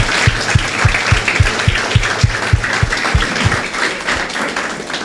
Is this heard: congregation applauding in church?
yes